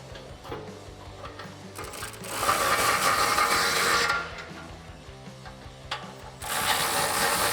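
Ratchet wrench cranking down 18 mm bolts on a Jeep Wrangler JK rear bumper, steady close clicking in two bursts with louder, brighter ratcheting near the middle and end, no talk.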